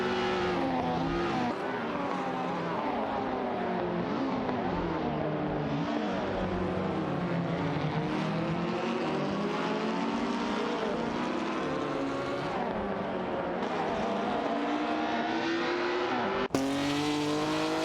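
Ferrari 246 F1 race car in a racing video game, engine whining steadily and loudly with rising and falling pitch through gear changes, continuous throughout with no talk.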